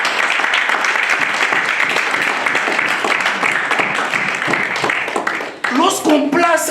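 A church congregation applauds and cheers for Jesus during a sermon, producing dense, loud clapping mixed with shouted acclamations. A voice rises above the crowd near the end.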